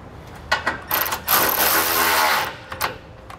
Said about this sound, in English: we can tighten it down using a 13 millimeter socket.